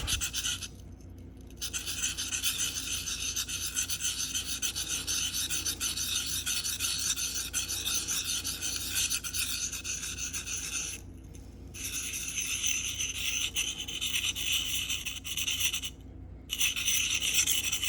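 A knife blade rasps repeatedly across a 600 grit Sharpal field sharpener in close, continuous scraping strokes, broken by a few short pauses where the stroke stops and restarts.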